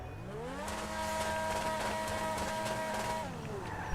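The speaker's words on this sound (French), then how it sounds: "Ça fait un bruit très bizarre. Écoutez quand je freine." A prototype car in GTA Online braking with a strange noise, a steady tonal whine that glides down in pitch and then fades out, with engine sound underneath.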